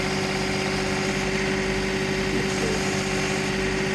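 A HydrosPlus Auger+ engine runs steadily while drilling a hole, a loud, constant droning hum with a strong tonal whine and no talking.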